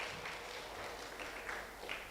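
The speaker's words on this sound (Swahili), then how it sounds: "Makofi ya Mama Lewela." Faint, distant applause for a woman pioneer at a mining, oil and gas forum, a steady hiss of many clapping hands with no distinct individual claps.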